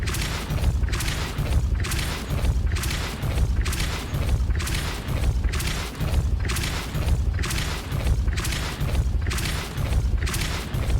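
A spell cast over and over in the Hogwarts Legacy video game, heard as a steady run of booming blasts at about one per second, loud and continuous, with no talk.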